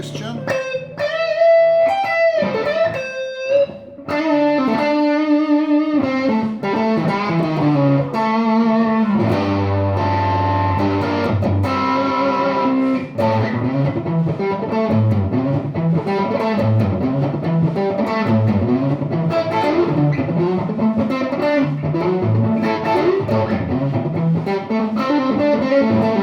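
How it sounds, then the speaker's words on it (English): An electric guitar with a Lollar Charlie Christian pickup, played with heavy distortion, running through chords and bluesy lines continuously, loud and up close. "Right now I'm playing distortion with this Charlie Christian."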